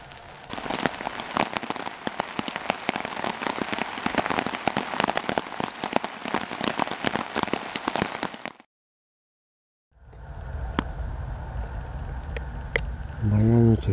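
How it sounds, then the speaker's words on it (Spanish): Heavy summer rain patters densely on a taut awning overhead, close and steady, breaks into brief silence, then resumes with scattered louder drips. "Voy a escuchar la lluvia veraniega como cae en el toldo"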